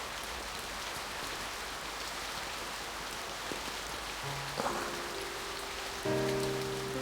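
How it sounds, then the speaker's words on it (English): Steady rain pours onto a vacant lot in a visual novel game, a dense even hiss, joined near the end by soft sustained musical tones. "The rain falls on the vacant lot."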